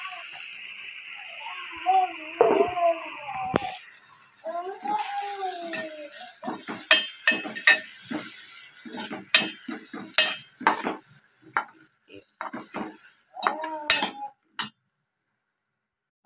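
Tomatoes cooking in a pan for moong dal, with repeated scraping and clinking stir strokes over a soft sizzle; a voice speaks briefly early on before the stirring takes over.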